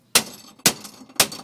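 A leaf spring dropping free from the underside of a 1969 Mustang coupe during removal, heard as three sharp metallic clanks about half a second apart, each one close and loud with a short ringing tail.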